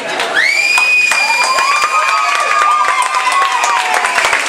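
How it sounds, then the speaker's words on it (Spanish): Festival crowd cheering and clapping for a band on stage, with loud whoops and whistles riding over dense, continuous applause that fills the whole stretch. "En primer lugar queremos dar un aplauso a Mike"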